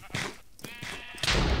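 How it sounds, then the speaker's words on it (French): Sheep bleating in the Minecraft video game, Sheep Wars mode on a server, several short bleats close and loud, alone with no talk. "Non, c'est un mouton."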